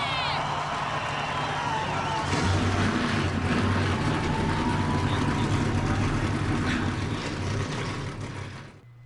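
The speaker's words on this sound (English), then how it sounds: "Let's go trackside for the command to fire engines" Engines on a grid of NASCAR-style race trucks in a racing video game at Charlotte fire up and settle into a loud, sustained, rumbling idle that fades slightly at the end.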